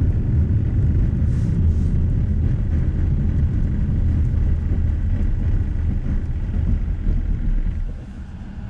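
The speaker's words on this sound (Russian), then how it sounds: "покажу я вам торможение на скользкой дороге до нуля с 80 км в час без рук" A Lada Vesta SW Cross 2020 braking from 80 km/h to a stop on a slippery snowy road: steady, heavy low road and engine rumble inside the car that eases slightly toward the end, with no voices.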